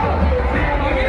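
A dense crowd at the Rajgir Malmas fair makes a loud, constant roar of overlapping voices and chatter, close and unbroken.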